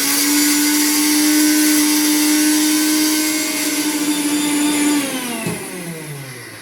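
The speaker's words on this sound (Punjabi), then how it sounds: "ਇੱਧਰ ਪੀਸੀਆਂ ਸਾਡੀਆਂ ਮਿਰਚਾਂ ਵੀ ਹੁਣ" A home spice grinder whirs loudly while grinding chillies, a steady high motor whine that holds for about five seconds, then drops in pitch and winds down as it is switched off.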